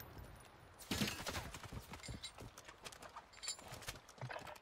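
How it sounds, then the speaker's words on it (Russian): Bursts of distant video game gunfire from a WarZone battle royale match crackle in rapid, uneven volleys against a steady background rumble. "Только тут уже стрельба слышна."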